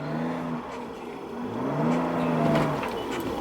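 A car exhaust revs and drones while driving through a snowstorm, engine pitch rising and falling in sweeping waves, loud and close throughout with no talk.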